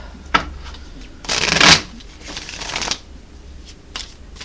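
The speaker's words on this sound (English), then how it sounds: "Shuffle up them two decks." Two decks of tarot cards being shuffled by hand, a close riffling burst in the middle with lighter card taps before and after, in a quiet room.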